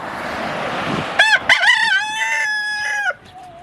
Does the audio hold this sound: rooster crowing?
yes